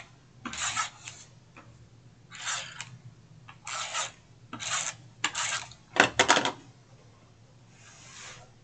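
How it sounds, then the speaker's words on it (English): Strips of tape are pulled and pressed onto the back of a Dollar Tree binder, giving several short raspy, rubbing bursts with quiet gaps between them and no voices. "And now I can take my tape, add some tape to the back of this."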